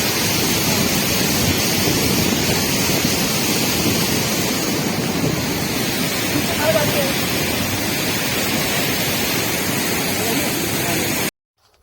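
Loud, continuous roar of a fierce waterfall torrent pouring across a mountain motor road near Ratapani, a dense unbroken rush with wind buffeting the microphone.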